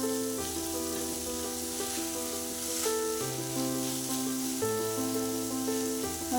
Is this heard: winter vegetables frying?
yes